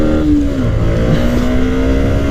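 A motorcycle pulls away hard in first gear, the engine note rising quickly in pitch as it revs up, loud and close, with no voices.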